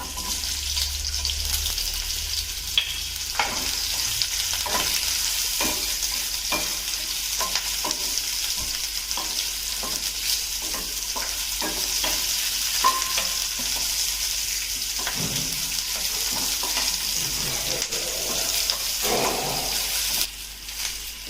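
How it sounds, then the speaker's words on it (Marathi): Onions fry in hot oil in a home kitchen while cooking Kolhapuri-style vegetable curry, giving a steady, close sizzle with scattered stirring scrapes and clinks throughout and no talking. "तेल घालते कांदा घालूया"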